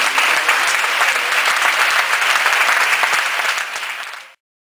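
At the Campamento Dignidad rally in Mérida, an audience gives a burst of loud, dense clapping that continues steadily for about four seconds and then stops abruptly.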